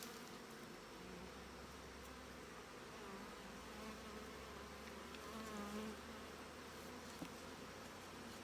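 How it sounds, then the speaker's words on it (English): Honey bees buzz steadily in a hive brood nest during a September inspection, a dense continuous hum close by with no talk over it. "there's lots of bees to look through."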